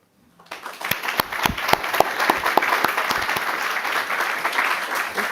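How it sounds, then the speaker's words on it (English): Audience applause at an IPCC workshop on scenarios, starting abruptly from near silence with a few sharp individual claps, then swelling into sustained, fairly loud clapping from a room of people that continues to the end. "then we have to give to them a big applause."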